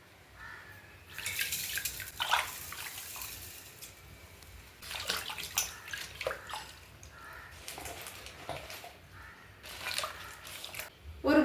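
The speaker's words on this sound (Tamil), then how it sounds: "முள்ளங்கி கீரையை உப்பு தண்ணியில் போட்டு அலசி எடுத்துக்கலாங்க." Radish leaves being swished and rinsed in a bowl of salt water, giving intermittent splashing and sloshing bursts close by, with softer watery movement between them.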